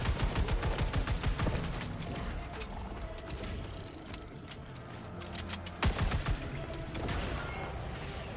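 Rapid bursts of video game gunfire, a fast rattling automatic volley at the start, then scattered shots and a second sharp burst near the end, with a player's voice faintly under it.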